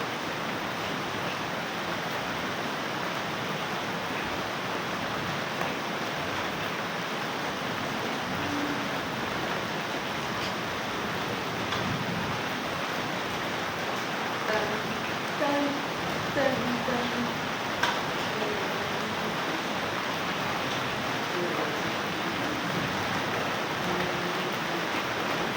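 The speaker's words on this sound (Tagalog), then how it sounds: "kaya nagpapaulan" Steady heavy rain pours down outdoors while someone plays in it, a dense continuous hiss of drops filling the whole stretch, with faint scattered voices and splashes underneath.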